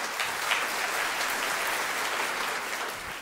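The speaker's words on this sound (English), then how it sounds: "A big round of applause for Krithika." Audience applause for a Pecha Kucha presenter at an event in Chennai, a steady dense wash of clapping from a crowd that holds evenly for about three seconds with no talking.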